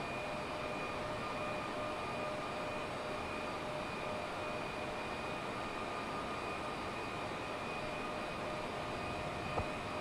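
Small airplane engine droning steadily in flight over the Lake Havasu area of Arizona, a constant broadband hum with a faint steady tone, heard from inside the cabin throughout with no talking.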